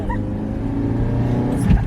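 A Nissan Skyline R33 engine roars steadily as it launches and accelerates hard, loud and close, with the pitch building over a couple of seconds.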